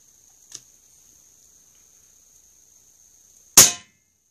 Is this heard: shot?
yes